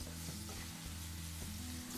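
Mushrooms and vegetables sizzle steadily in hot oil in a pan, a close, continuous frying hiss with a low hum beneath and no talking, being cooked as filling for Filipino lumpia.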